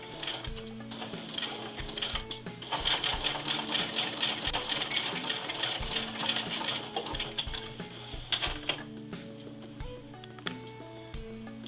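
A sewing machine stitches a formal dress bodice in a fast, even run of mechanical ticks, clattering steadily for several seconds before slowing and stopping, fairly quiet and close.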